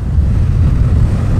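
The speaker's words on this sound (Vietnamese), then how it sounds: "Giờ đó, wow, hơi gió một xíu nha" Strong wind buffets the microphone on a seashore on Bantayan Island, a constant low roaring rumble with no voices.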